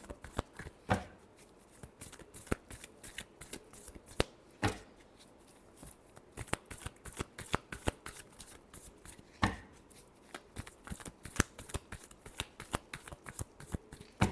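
Tarot cards being shuffled for a reading: a long run of crisp riffles and slaps, some sharper than others, in an irregular but steady rhythm, close and fairly quiet, with no talking.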